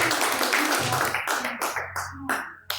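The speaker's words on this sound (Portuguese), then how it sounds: "Palmas que louvam a Deus." A church congregation claps in praise at a live service. The hand claps come loud and close in irregular bursts while a voice speaks over them, then they thin out toward the end.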